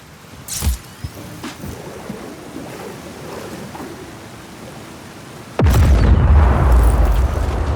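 A booster being fired in the video game Just Cause 4, a few thumps and a pop, then an abrupt loud roaring blast that sustains as a heavy rumble to the end.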